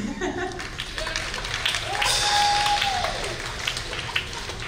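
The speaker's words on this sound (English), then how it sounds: "go ahead and clap" High school spring band concert audience claps in a soft, scattered patter that rises briefly and fades, heard under a voice speaking over a microphone.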